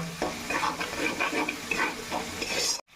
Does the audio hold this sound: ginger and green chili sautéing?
yes